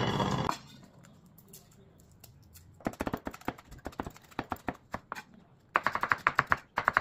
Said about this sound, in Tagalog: Yung chicken natin guys. Ayan. Slice lang muna natin kasi lalaki.